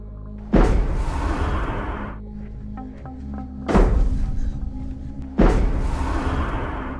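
Three heavy thuds on a house roof, each a deep boom that rumbles and fades over a second or two, spaced a few seconds apart.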